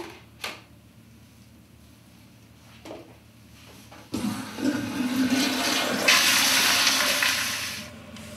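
A toilet flushes in a bathroom after urine is disposed of, starting with a few faint clicks and clunks, then building into a loud, rushing gurgle of water that swells and slowly tails off. No one speaks.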